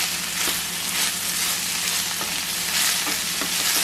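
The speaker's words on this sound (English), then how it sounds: "we're just gonna mix this all around so the meat is all coated with the tomato sauce" Ground meat stirred through tomato sauce in a hot pan for relleno de papa filling: a steady, close sizzle with repeated scraping stirs and no talking.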